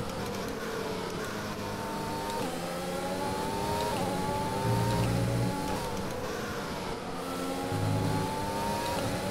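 Formula 1 race car engine in the F1 2020 video game, a high whining tone that repeatedly climbs through gear changes, loud and continuous with sharp upshifts and brief drops between runs.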